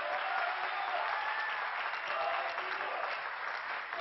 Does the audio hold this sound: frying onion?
no